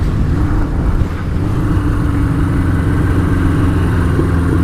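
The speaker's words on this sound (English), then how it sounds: "Idle's a little high." A Suzuki GS1000 motorcycle engine idling slightly high during a shakedown, a steady, close, low rumbling putter that runs continuously with no one talking.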